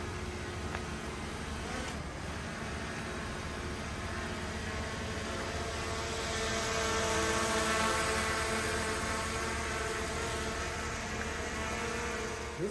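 DJI Mini 4 Pro drone hovering and flying outdoors for active tracking of a road cyclist: a faint, steady high-pitched propeller whine over a broad hiss, swelling slightly partway through.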